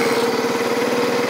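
An ATV four-wheeler engine idles close by with a steady, loud, even rumble and fast regular firing pulses, no talk over it.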